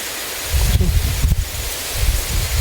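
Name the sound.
strong wind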